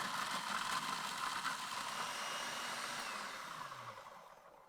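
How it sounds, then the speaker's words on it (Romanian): A kitchen food processor grinds biscuits into fine crumbs with a loud, steady motor whir and gritty rattle that gradually fades and winds down toward the end. "I-am pus într-un robot de bucătărie și îi voi mărunți foarte bine."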